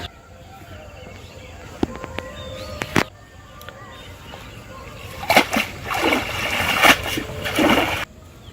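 A fishing net cast into a village pond, a few sharp clicks and knocks first, then a run of loud, close splashes and sloshing water through the second half.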